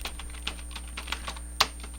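Quick keystrokes on a computer keyboard while entering text in the NetBeans Java editor, a steady run of light, close clicks with one sharper tap near the end.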